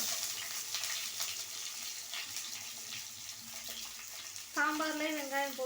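Onions and green chillies sizzle in hot oil for papaya sambar, a soft steady frying hiss with light stirring, followed near the end by a brief louder splash or pour.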